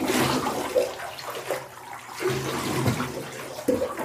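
Water poured from a cup over a dog standing in a bathtub, splashing and trickling in short pours that rise and fade, close and fairly loud with no talking.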